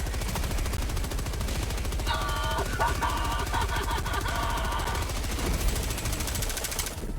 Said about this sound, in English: Look at my machine gun and what it does to them.